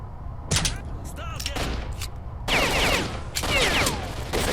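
Enemy Ukrainian military soldiers open fire in S.T.A.L.K.E.R. Shadow of Chernobyl, with a sharp shot followed by two longer rattling volleys of gunfire at moderate distance over steady game background noise.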